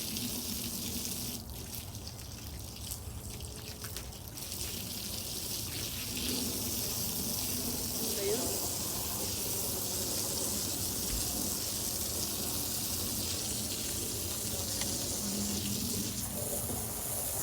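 Water runs steadily from a tap into a sink during household washing on a sunny day in Canada, a continuous close hiss and splash throughout with small clinks from handling.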